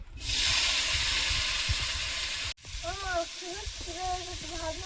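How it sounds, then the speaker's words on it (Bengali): Bitter gourd and potato frying in hot oil in a wok, a loud broad sizzle and hiss that bursts in and holds steady, then settles lower while a bird chirps repeatedly in the background. "কড়াইতে তেল গরম হয়েছে, উচ্ছে আর আলুটা ভেজে নেব"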